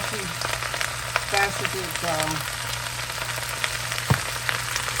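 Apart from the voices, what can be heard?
vegetables stir frying in a pan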